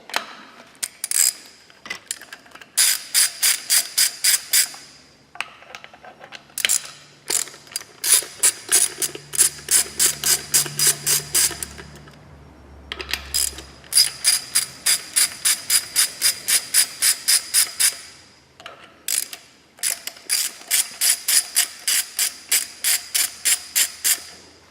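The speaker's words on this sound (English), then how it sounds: "we're going to need to take a 10mm socket and a 6-inch extension and remove these 4" A ratchet fitted with a 10mm socket and 6-inch extension backs out bolts in long runs of rapid, crisp clicks, pausing between runs, loud and close with no voices.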